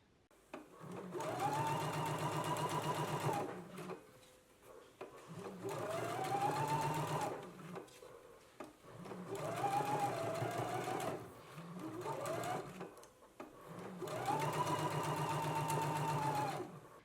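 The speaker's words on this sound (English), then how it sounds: "I'm going to go to the sewing machine and we can stitch in a 3/8 of an inch seam allowance" A sewing machine runs in several long stitching bursts, with brief pauses between them and a steady mechanical whir throughout, recorded up close.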